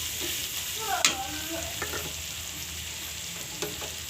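Ground Kashmiri chilli and cumin fry in a pan with a steady soft sizzle, a sharp clink of a spoon against the pan and a few stirring scrapes over the hiss.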